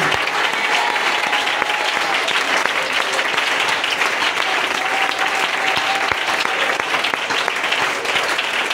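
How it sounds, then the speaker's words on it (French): A church congregation bursts into sustained applause, a dense, loud wash of clapping that holds steady throughout with a few voices mixed in. "Je crois que quelqu'un allait acclamer."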